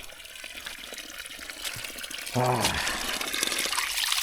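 Fresh spring water flowing near a waterfall, running steadily and close, with a hand reaching in; the flow swells noticeably louder partway through, with a man's brief exclamations over it.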